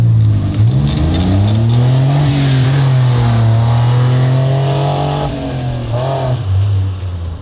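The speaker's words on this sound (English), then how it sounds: "Are you doing a burnout?" A 1200 HP AMG car holds a sustained burnout, its engine roaring loud and close with revs climbing, holding, dipping and rising again over several seconds.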